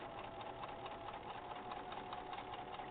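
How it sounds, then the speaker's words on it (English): A sewing machine stitches straight across webbing on a bag, a steady continuous motor whir with fine rapid needle chatter throughout, fairly close and alone. "so we're just going to sew right across."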